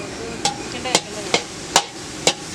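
A large batch of veg noodles is stirred in a big pan, heard as five evenly spaced metallic scrapes and knocks of the utensil against the metal over a faint background.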